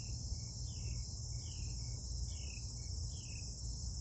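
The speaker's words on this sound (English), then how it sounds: "these crickets chirping in the bushes over here." Crickets chirp in the bushes outdoors in a steady, repeating rhythm of short trilled bursts, moderately close and alone without talk, over a constant low background hum.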